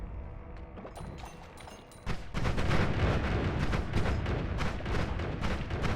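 A bomb detonating in the pixel-physics video game Noita, with a sudden burst that swells into a loud, sustained rumbling crackle of repeated blasts and debris after a quieter stretch of small clicks and pops.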